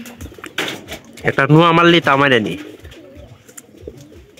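Pigeons coo in a loft, with one strong, loud, throaty coo in the middle and softer calls around it, while people talk nearby.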